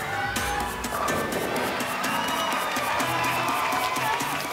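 Crowd cheering and clapping at a women's bowling world championship as a player goes for a perfect 300 game, a loud sustained roar with sharp bursts layered through it.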